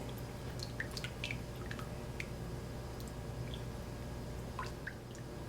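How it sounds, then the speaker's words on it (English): Melting chocolate stirred in a bowl, with scattered light clicks and scrapes of a utensil over a constant hum of background noise, close but faint, no talking. "now we're just going to start stirring it and getting the chocolate all melted"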